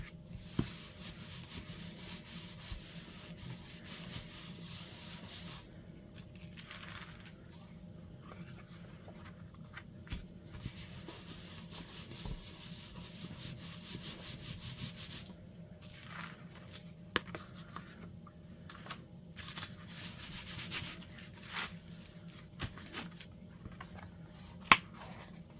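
Sandpaper rubbing over a painted DIY background that has been sprayed with water, a steady soft scratchy scrubbing that runs throughout with a few sharper scrapes, close and fairly quiet.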